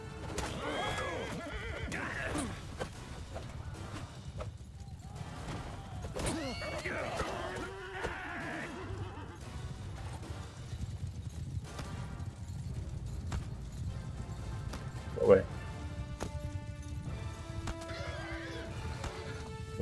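Horses neigh and whinny with clip-clopping hooves during a large medieval battle in Mount & Blade II: Bannerlord with a Game of Thrones mod, repeated calls over a busy, steady battle din.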